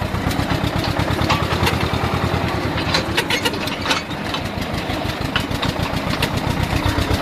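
A combine harvester mows dry grain at the start of the harvest, its engine droning in a steady, loud rhythmic chug with a faint clatter of machinery, no voices.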